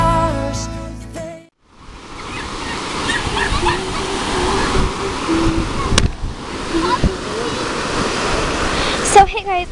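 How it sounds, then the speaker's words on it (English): Ocean waves wash steadily onto a beach in a continuous broadband roar with wind noise, loud and close, after a brief burst of other sound at the start. "Here's the ocean."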